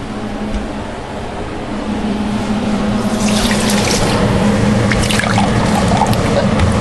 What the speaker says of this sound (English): We're going to use 4 cups of vinegar.